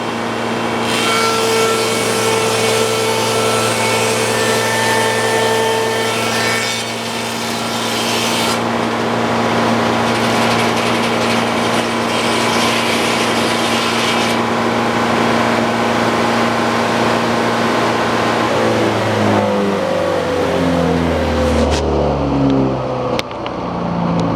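A Frick OO sawmill's circular blade cuts through an ash log, a loud steady whining rasp with a humming engine drone that drops and slows near the end as the cut finishes.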